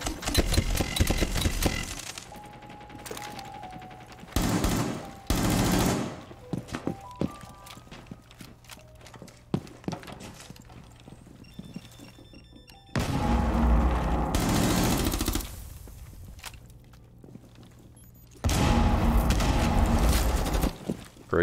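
Gunfire from the Rainbow Six Siege video game comes in loud, dense bursts separated by quieter stretches of footsteps and small clicks and taps, with the heavy barrages hitting hard and sustained for a few seconds at a time.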